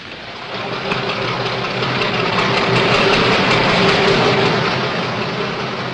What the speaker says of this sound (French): entraîné depuis Mossoul par une locomotive diesel américaine ou tchécoslovaque selon les jours